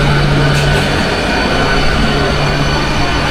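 A Barddhaman to Katwa passenger train pulls into platform 1 at Balgona station, a loud, close, steady rumble with a low engine drone and faint wheel squeal throughout.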